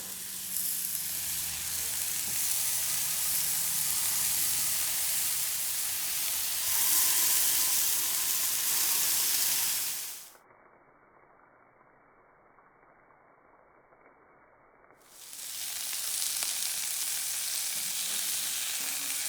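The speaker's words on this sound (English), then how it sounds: "Hear that sizzle?" Burgers sizzle loudly in olive oil in a hot cast iron skillet over medium-high heat, a steady, crackling hiss that drops away briefly before returning.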